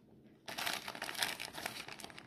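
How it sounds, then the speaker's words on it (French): A small plastic-wrapped yarn package is opened by hand, its wrapper crinkling and rustling loudly and continuously up close after a quiet start. "Il me reste le petit paquet de Woolbags à ouvrir."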